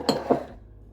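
Dried herbs being put into glass jars in a home kitchen: two quick, light glassy clinks a fraction of a second apart, close and fairly quiet, then near silence.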